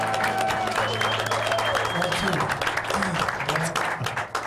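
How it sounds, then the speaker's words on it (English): A crowd applauds a band at a midnight show. The clapping is loud and dense and runs steadily throughout, with voices mixed in. "Round of applause. Let's hear it."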